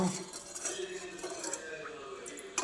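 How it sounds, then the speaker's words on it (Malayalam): Milk with sugar is stirred in a pan, heard as quiet, soft scraping and small clinks of a spoon against metal, faint and close. "നമുക്കൊന്ന് പാലൊന്ന് ഇളക്കാം"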